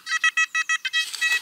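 A metal detector sounds a signal while sweeping over a beach near a pier: a run of short, evenly spaced electronic beeps followed by a longer, wavering tone, clear and close with no talk.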